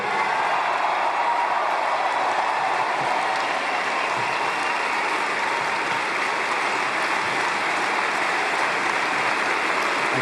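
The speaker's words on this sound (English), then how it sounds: "applause" Loud, sustained applause from a large conference audience at an AIPAC gathering, a dense unbroken roar of clapping that holds steady for the whole stretch.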